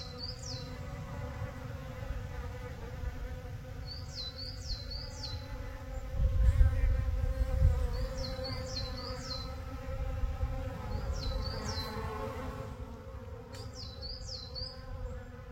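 Honeybees collecting water at a pond in a forest hum as a steady, soft buzz under a low background rumble, while small birds chirp briefly now and then in the distance.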